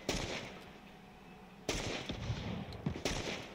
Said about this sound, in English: He was in my crosshairs all those shots, and not a single fucking one ended up hitting him